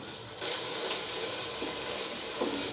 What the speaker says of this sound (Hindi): ये 1 मिनट मसाले को भून लें।